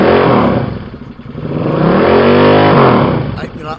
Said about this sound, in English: I hope you like motorbikes.